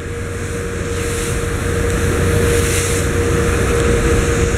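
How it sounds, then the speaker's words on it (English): Steady low drone of a RoRo ferry's engines as it comes into port at Toledo City, carrying on evenly with wind and water noise over it and no voices. "So this is the last shot I'm going to get of Toledo City as we're coming in."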